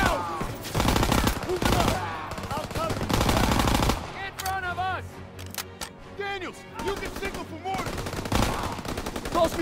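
Automatic gunfire and rapid bursts from the Call of Duty Modern Warfare video game, loud and dense, with soldiers shouting over the shooting.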